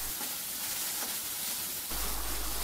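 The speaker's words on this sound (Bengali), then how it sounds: "এখন নাড়াচাড়া করে মশলাটা ভালোভাবে কষিয়ে নেব" Spice masala for a tripe curry fries and is stirred in a pan, making a steady, close sizzling hiss with soft scraping. The hiss grows noticeably louder toward the end.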